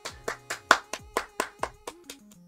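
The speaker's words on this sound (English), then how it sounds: "Let's all give ourselves a little clap." Regular, evenly spaced hand claps, about ten crisp close claps over a few seconds, with a soft background melody playing beneath them.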